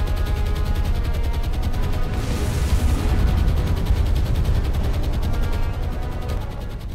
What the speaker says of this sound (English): Heavy anti-aircraft fire though.